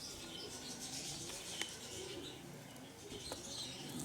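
Young late-hatched pigeons perched on shelves give soft, faint cooing over a steady low background hum, with a few brief brighter calls.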